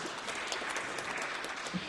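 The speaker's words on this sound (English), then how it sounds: "That applause started from Helen, I think, who I cut off very rude" Audience applause at a heritage talk in Hull Minster, a steady wash of clapping from a seated crowd with no voices over it.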